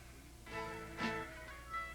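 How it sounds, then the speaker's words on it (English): Merino sheep bleat at a shearing centre in New South Wales, with a couple of wavering, drawn-out calls rising over a low background hum, moderately faint and at a distance. "The merino sheep are trucked in from all over New South Wales"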